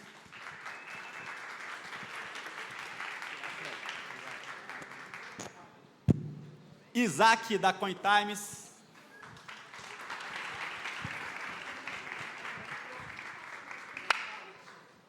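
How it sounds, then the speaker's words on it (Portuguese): Audience applause at a Web3 marketing and events gathering in Brazil, a broad sustained clapping wash that fades, gives way to a host speaking over a microphone, then swells again into a long round of clapping. "Salva de palmas."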